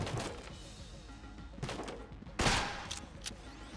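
Video game gunfire in Enter the Gungeon, scattered bursts of sharp shots at moderate volume with a heavier volley near the end, over a low background.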